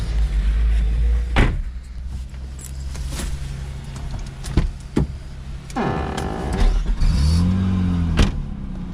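A Nissan Maxima with no working brakes is readied and driven off: a few thuds and clunks over a steady engine hum, then the engine note rises and swells as the car pulls away, close by.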